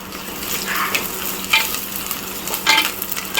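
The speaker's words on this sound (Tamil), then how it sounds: "இது கொஞ்சம் வெங்காயம் நல்லா கொஞ்சம் பொன்னிறமா வதங்கணும்." Onions sizzle steadily in hot oil as a spoon stirs them for a sankara fish curry, with short scraping bursts over a continuous close frying hiss and no voices.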